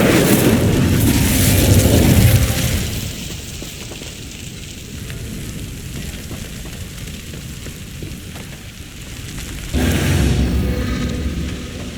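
Whooshing burst of the Incendio fire spell in Hogwarts Legacy, a loud roaring rush of flame that fades into crackling, then flares again near the end.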